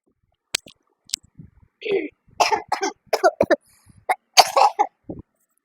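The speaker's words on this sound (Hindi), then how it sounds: "सॉरी, खांसी के लिए हमें खेद है" Several harsh coughs and throat clearings come in quick uneven bursts, close to the listener, with short gaps between them.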